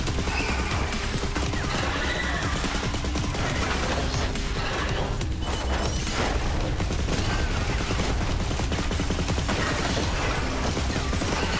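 Continuous automatic gunfire from the shooter game Riftstorm, rapid dense bursts of shots running loud and unbroken from start to finish with mechanical clatter mixed in.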